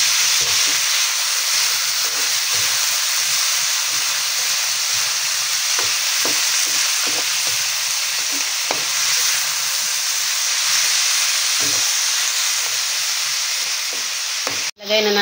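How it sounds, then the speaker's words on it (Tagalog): Squid and shrimp sautéing in a pan, a loud, continuous hiss of frying with scattered stirring knocks and scrapes, ending in a brief abrupt clatter. "Igisa muna natin silang parehas."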